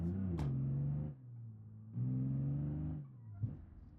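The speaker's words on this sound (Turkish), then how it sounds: "bir dənə drift edeyim, sizə baxın" A car drifting in the driving game BeamNG Drive: a loud engine drones and revs in two long bursts with shifting pitch, separated by brief drops, plus a short squeal-like spike and no talking.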